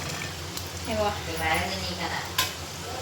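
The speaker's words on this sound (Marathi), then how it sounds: "असे थोडे थोडे करून सगळे शंकरपाळी तळून देते मी" Shankarpali dough pieces deep frying in hot oil, a close bubbling sizzle with gentle stirring and a sharp clink, under soft background sound.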